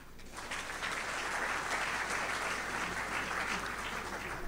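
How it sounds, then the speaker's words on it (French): An audience applauds at a school ceremony, a dense, continuous wash of clapping that swells quickly after a brief start and holds steady and fairly loud to the end. "Veuillez vous applaudir."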